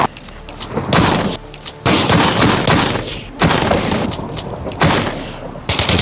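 Gunfire from modern combat mods in Minecraft, including machine guns, heard as loud dense bursts of rapid shots in several clusters separated by brief pauses, with booming impacts.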